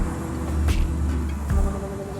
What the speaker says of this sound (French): il y a le bruit des voitures.